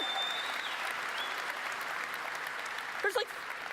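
Outdoor conference audience keeps clapping in a dense, even patter that fades slightly toward the end, broken by a brief sharp burst near the finish.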